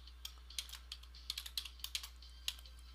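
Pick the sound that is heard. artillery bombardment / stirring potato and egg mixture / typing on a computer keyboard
typing on a computer keyboard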